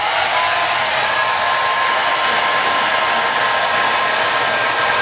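A heat gun runs on its high setting, warming the metal of a 2004 BMW X3 E83 door panel; a loud, steady, unbroken airflow roar continues close to the mic throughout, with no voices.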